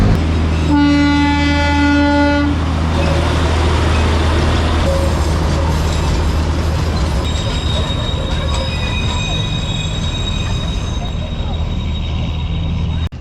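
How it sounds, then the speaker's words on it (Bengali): The Darjeeling toy train passes near Tindharia with a loud, droning horn blast and rumbling rolling stock. Squealing wheels and engine hum carry on close by, with voices faintly in the background. "টয় ট্রেনে হইছে আওয়াজটা আসছে কিন্তু খুঁজে পাচ্ছি না"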